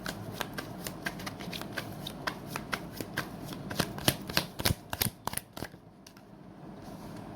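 Tarot cards are riffled and shuffled up close, a rapid series of crisp flicks and snaps that speeds into a dense flurry before settling, with no talking.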